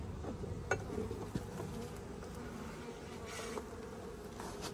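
Honeybees buzz around an open beehive at close range, a dense steady drone with occasional louder passes as individual bees fly near, plus a few faint knocks and rustles.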